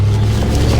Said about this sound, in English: Another loud muffler.